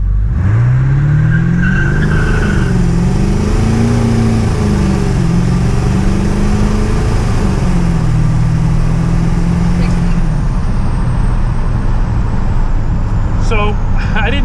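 A 7.3 Powerstroke diesel truck with a custom tune launches hard, its engine roaring loud and close as the tires spin, the pitch rising and wavering for about ten seconds before the run fades into rough road noise.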